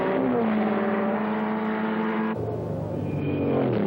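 Chaparral and other sports racers of the 1963 Riverside Grand Prix roaring through a corner, a sustained loud engine drone with a sharp shift in pitch midway, no voices.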